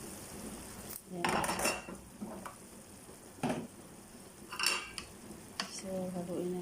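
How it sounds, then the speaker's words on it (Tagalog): Pancit canton noodles stirred in a pan, with a utensil scraping and clinking against the metal in several loud bursts separated by quieter gaps. "So, haluin na natin."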